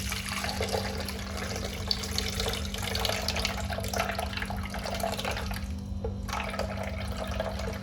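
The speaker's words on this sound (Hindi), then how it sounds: "इसका जो पानी है ना वो मशीन का जो जग है ना इसमें हम डाल देंगे" Water from soaked dates is poured into a blender jug, a steady splashing trickle that runs continuously and fairly close over a low hum.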